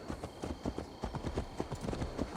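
Rhythmic clip-clop of horse hooves in Assassin's Creed Valhalla, a brisk steady trot of closely spaced thuds, near and clear with no talk.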